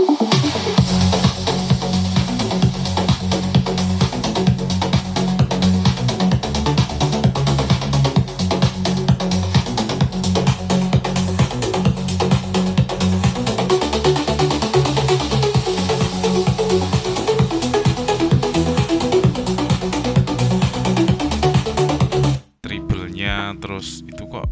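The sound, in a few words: music played through Hifuture Music Box speaker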